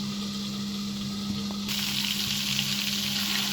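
Thick fish fries in a pan over medium-low heat, giving a steady close sizzle with oily crackle that grows noticeably louder partway through.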